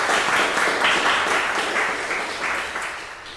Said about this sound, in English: so should we give him a round of applause?